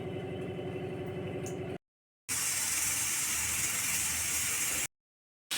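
A pressure cooker holding dal and bottle gourd lets out a loud sustained steam hiss for about two and a half seconds, following a low humming stretch, with short silent gaps between.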